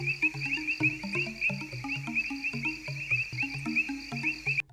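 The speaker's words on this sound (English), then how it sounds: "Frog," A frog croaks repeatedly in a steady rhythm, close and clear against a faint high-pitched insect-like trill and background melody.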